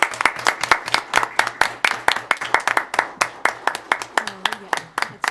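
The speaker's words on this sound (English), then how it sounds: "Let's give Denny a big round of applause for this." A small audience at a school board meeting claps for Denny, the claps sparse and distinctly rhythmic like a handful of people clapping in unison, steady for several seconds while someone speaks briefly underneath.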